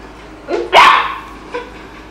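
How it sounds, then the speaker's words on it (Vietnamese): Dog barking close by, two quick sharp barks followed by a softer third yip, with quiet pauses between them. "Tinh Tinh đang sủa ha."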